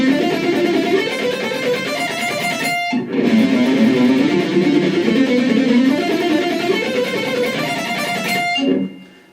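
Fast neoclassical electric guitar sequence climbing diagonally up the neck, dense rapid notes streaming loud and close, with a short break near the three-second mark before the run continues and then stops abruptly.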